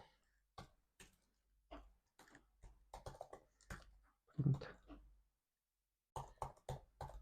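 Python code being typed on a computer keyboard, with quick irregular bursts of close key clicks separated by short pauses and one longer gap near the end.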